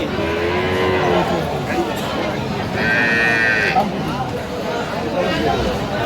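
Cows and calves moo loudly and repeatedly at the Aftabganj cattle market in Dinajpur, close by, over a busy background of people talking and crowd babble.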